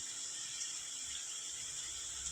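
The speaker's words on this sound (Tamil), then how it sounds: "இப்போ வந்து தண்ணி சேர்க்க போகிறோம். தண்ணி சேர்த்தாச்சு." Water pours steadily into a cooking pot for dum chicken biryani, a continuous hissing, splashing stream heard close up and fairly quiet, with no voices.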